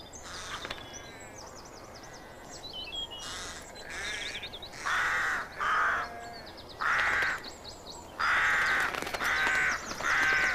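Competitive male rooks in Welsh farmland give harsh, repeated caws in overlapping bursts, some near and loud, others further off, with softer calls between.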